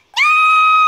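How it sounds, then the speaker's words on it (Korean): A cartoon character in a Korean animated fantasy series lets out a loud, high-pitched scream that starts abruptly and holds steady for under a second, alone with no other sound. "샤오의 비명소리야."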